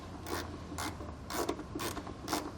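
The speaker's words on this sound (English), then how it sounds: "then just use the ratchet to get them out." A ratchet with a T15 Torx bit backs out bolts while a 2018 Chevrolet Silverado 1500 gets mud flaps fitted, giving several short metallic clicking bursts in a quick uneven rhythm, close and fairly quiet.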